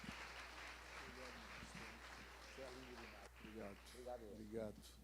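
A church congregation claps in praise during a service, with continuous applause throughout and a voice speaking over the clapping.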